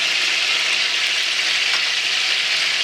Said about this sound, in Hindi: इसमें वो टमाटर जो हमने छीले थे वापस डाल देंगे, और साथ ही इसमें डालेंगे अदरक लहसुन का पेस्ट